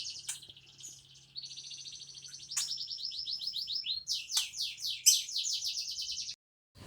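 A bird chirps repeatedly, with bright rapid tweeting phrases and trills that grow busier and louder toward the end, heard close and alone over a faint low hum.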